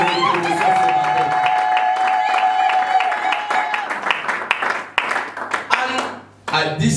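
Church congregation clapping and cheering in acclaim during a service, with dense, steady applause and voices over music for several seconds before it thins out and breaks off near the end.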